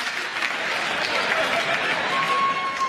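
Steady applause fills a comedy show audience from start to finish, dense and even with no pauses, a few whistles threading through the clapping.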